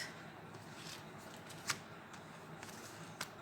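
Life purpose cards are shuffled by hand, a faint soft papery riffle with a few light clicks and taps, close and quiet, with no one talking.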